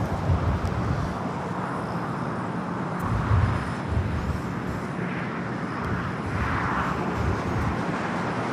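An airliner, Southwest flight 1374, takes off from runway 24 Left at LAX, producing a steady, loud, broadband jet roar that holds evenly throughout with no speech over it.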